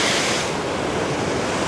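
Nighttime ocean waves on the Jamaican shore below a hut, a loud, continuous wash of surf and splashing water, close and steady without pauses.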